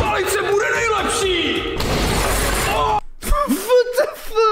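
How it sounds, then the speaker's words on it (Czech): A sledgehammer smashes glass in one loud, crashing burst, with excited voices talking and shouting before and after the impact. "Já to rozmáčím. Palice bude nejlepší."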